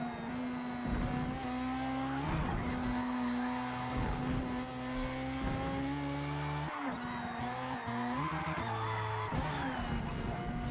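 A car drifting in a racing video game, its engine holding a steady droning whine while tires squeal and skid in long continuous passes, loud and unbroken with no talk.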